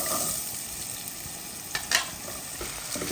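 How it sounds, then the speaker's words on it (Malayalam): Onions frying in oil in a pan give a steady, close sizzle, with a few brief stirring clatters toward the end. "അതിൽ നിന്ന് കുറച്ചെടുത്ത് മാറ്റി നമുക്ക് ആവശ്യമുള്ള മാത്രം എണ്ണ ഞാൻ വെച്ചിട്ട് നമുക്ക് അതിലേക്ക് നമ്മുടെ സവാള ഇട്ട് കൊടുക്കാം."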